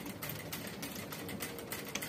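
A sewing machine stitches the fabric of a child's crinoline petticoat boned with plastic boning, a quiet, fairly steady rapid patter with soft rhythmic ticks, faint and close, with no talking.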